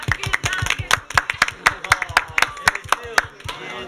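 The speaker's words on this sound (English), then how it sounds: "let's give a round of applause" Audience at a college in North West London clapping, sharp individual claps in a fairly regular rhythm, close and fairly loud, with voices talking underneath.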